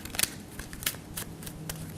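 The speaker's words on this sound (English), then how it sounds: "Your right hand comes over and grabs that top half, and then overhand shuffles them to the bottom, just like that." Playing cards riffling in quick overhand shuffles, a few crisp bursts of card flicks in a steady rhythm, close and fairly quiet, with no talk.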